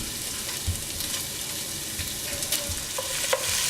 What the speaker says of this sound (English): Alright, so our sausage has begun to brown.